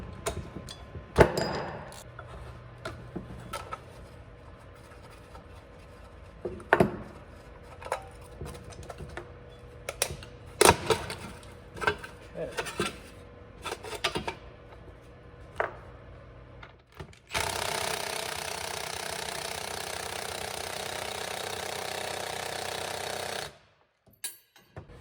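Wrenching on the brake backing plate bolts of an RX-7 gives sharp metallic clicks and knocks, then a steady loud buzzing whir from a power tool for several seconds before it cuts off.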